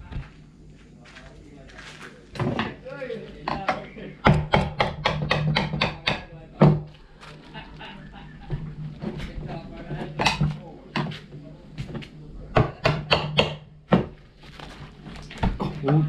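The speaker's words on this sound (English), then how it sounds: "I'll grab a hammer and we'll see if we can get it out." A hammer knocking out a glued-in window on a fibreglass boat, a series of sharp, irregular knocks and thuds that come in bursts, close and fairly loud, with a few quieter scrapes between them.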